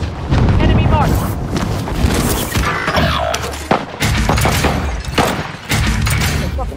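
Shotgun blasts in a first-person shooter match, heavy booming shots repeated among dense gunfire and clatter, loud and close, with voices talking over the action.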